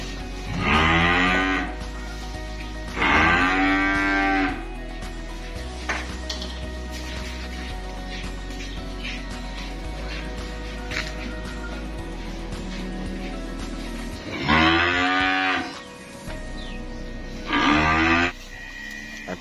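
Limousin cross calves at a cattle trader's yard in Kediri, East Java, let out several loud, drawn-out moos close by, in pairs separated by quieter stretches of background farm noise.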